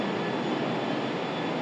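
A continuous loud roar of an airplane passing overhead, steady and close with no other sounds.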